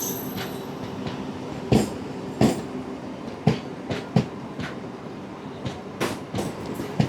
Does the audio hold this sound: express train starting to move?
yes